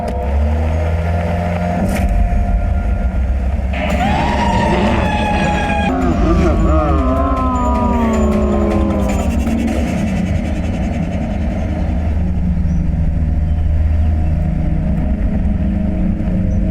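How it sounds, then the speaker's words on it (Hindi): A car engine revs and pulls away in a hurry, a loud sustained rumble with a rising whine in the middle, heard close amid tense shouting voices. "गाड़ी चलाओ, गाड़ी चलाओ,"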